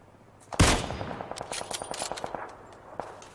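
Kar98 rifle fire in a first-person shooter: one sharp, loud shot, followed by a quick run of lighter, rhythmic cracks that fade, then a single fainter report near the end.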